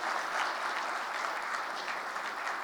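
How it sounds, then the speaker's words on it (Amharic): An audience at a corporate launch event for a telecom cloud service claps steadily, a dense, even wash of applause heard from within the hall without voices. "ክብራትና ክብራን ጭብጨባችሁን አልወደድኩትም እኔ በግሌ"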